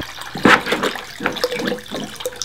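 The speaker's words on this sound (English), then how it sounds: "Almost done with our rinse cycle." Water sloshes and churns inside a portable washing machine during its rinse cycle, a steady close splashing with irregular surges and gurgles, heard alone without talk.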